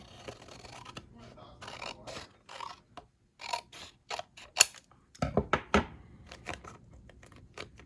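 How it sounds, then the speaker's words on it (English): Scissors cut craft material for a small tussie mussie bouquet holder, giving a few irregular snips and paper-like rustles and scrapes, close and soft with quiet gaps between cuts. "So I'm going to cut this side."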